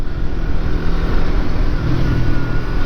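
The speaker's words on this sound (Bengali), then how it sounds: "তো গাইস এই যে হাইওয়ে রাইড শুরু করে দিছি" Loud, continuous engine drone with heavy wind rush from a Suzuki Gixxer SF 150 motorcycle cruising at 60 to 80 km/h on a highway.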